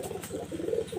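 A pigeon coos softly nearby, low throaty murmuring notes in a brief burst, with no talking over it.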